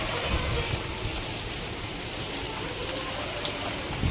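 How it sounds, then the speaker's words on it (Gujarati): Heavy rain falls outside, a broad steady wash of noise that stays constant and fairly loud, with faint scattered drips and no clear voices. "ફૂલ વરસાદ આવે"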